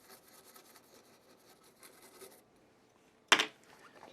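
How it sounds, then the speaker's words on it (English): A vintage Acoustic Control Corp 260 guitar amp being scrubbed with a brush and a little cleaner, giving a soft, steady rubbing and scratching texture that stops near the end, followed by one sharp clack. "gotta really scrub it up"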